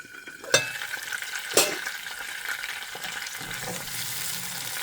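Onions and spices sizzling in hot oil for a crab curry, a steady close frying hiss with two sharp clacks of a stirring spoon early on.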